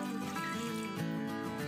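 One to one and a half glasses of water poured into meat in a pot, a steady continuous trickle heard close and fairly quiet throughout.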